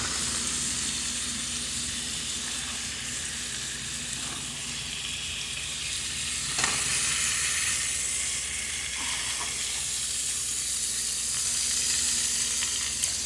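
Lamb frying in coconut oil and butter in a pan makes a steady, close, hissing sizzle that goes on without a break, with a few soft clicks of utensils.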